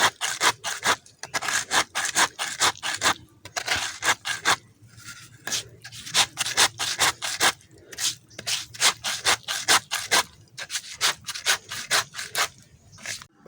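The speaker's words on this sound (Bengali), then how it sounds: "আপনারা এটা পাটায় বেটে নেবেন" Spices being ground into paste on a flat stone slab (pata) for a raw banana chop, a steady back-and-forth rasping rub repeating in quick strokes, close and fairly loud with no talk.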